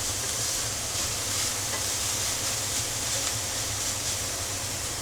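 Lean ground bison sizzling steadily in a pan while being stirred and broken up, a continuous close hiss with a low rumbling undertone and no voices.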